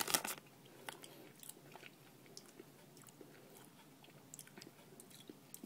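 Soft, close chewing of jelly babies, with a crunchy bite at the start and then faint wet mastication sounds in quiet surroundings.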